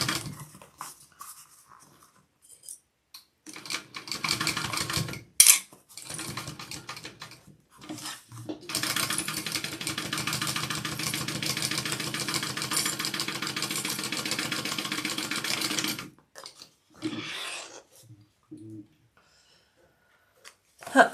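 A sewing machine stitches down a pleat on a sewing project, running in a steady mechanical whir for several seconds, with short bursts before and after and quiet pauses between.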